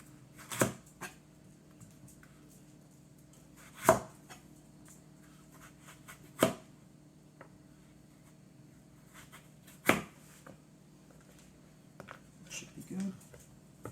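Knife slicing food into very thin planks on a cutting board during a knife-skills demonstration, heard as a few sharp, separate chops spaced several seconds apart at close range over a low steady background hum.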